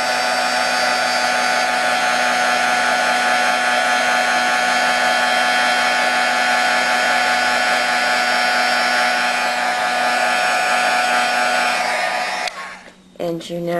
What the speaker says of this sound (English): Then, using the heating tool again